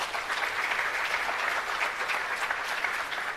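Audience applause at a launch event for 4IR centres of excellence, dense steady clapping from a crowd throughout, moderately close.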